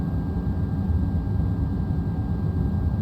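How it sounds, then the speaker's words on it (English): Airbus A330 jet engine spooling up during startup in a flight simulator game, heard as a steady, loud low roar with a faint whine above it and no voices. "just getting a little bit more audio feedback now here as the engine spools up"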